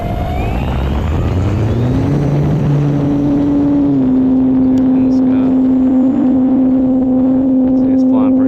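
An RC PA-18 Super Cub model airplane, 1700 mm span, flying with its electric motor whining at a steady pitch that rises then holds level, loud and close throughout.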